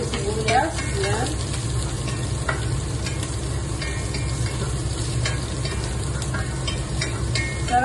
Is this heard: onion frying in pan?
yes